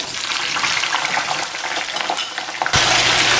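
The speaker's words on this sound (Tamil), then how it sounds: "இப்போ இதையும் வந்து நாங்கள் இந்த எண்ணெயில போட்டு பொரிச்செடுக்கணும்" Shallots fry in hot oil for a Sri Lankan wedding-style wambatu moju (eggplant pickle), a loud, steady sizzle that jumps to a brighter, stronger crackle near the end when more goes into the pan.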